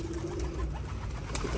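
Pigeons coo softly from nearby in a loft, a low, rolling murmur that stays faint and steady under a background hiss.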